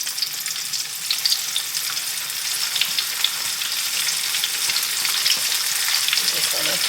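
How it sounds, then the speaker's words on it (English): Four pieces of tilapia fish frying in hot grease in a pan give a steady, dense crackling sizzle that stays even and close throughout, with no talking. "I'm just gonna fry all 4 pieces of fish. And this is tilapia fish."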